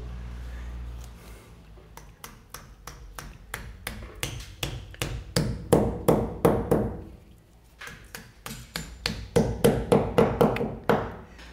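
Rapid series of light taps and knocks, close by, as wall plugs are tapped into drilled holes, in two rhythmic bursts separated by a short pause, growing louder as each run continues.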